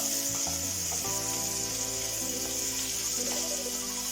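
Mango pieces frying in a pan make a constant, bright sizzle that runs unbroken, with melodic background music playing underneath.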